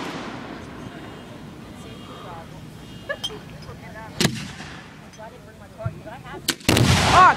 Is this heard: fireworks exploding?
yes